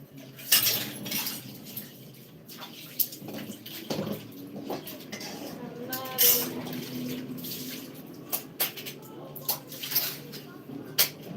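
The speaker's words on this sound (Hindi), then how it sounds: "बर्तन धुला थे भैया, धुल लें तो जाए" Dishes are washed under a running tap, with clinking cutlery and knocking pots over a steady wash of water. Voices talk intermittently nearby.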